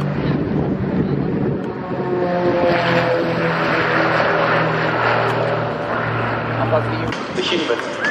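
Extra EA-330 aerobatic propeller planes at an air show, a steady, droning engine-and-propeller hum held throughout under a commentator's continuous talk.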